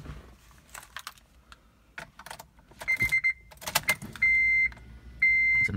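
Fuel pump priming in an E85-fuelled Honda tuned with a Hondata Flashpro, ignition switched on before a cold start after sitting 12 hours; clicks and rustles, then two short, steady whines near the end.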